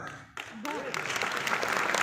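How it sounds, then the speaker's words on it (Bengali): Audience clapping at a business plan talk, the applause starting after a brief quiet moment and building into steady clapping from a crowd while a voice speaks over it. "তালি যখন বাজাবেন একটু আওয়াজে বাজাবেন না"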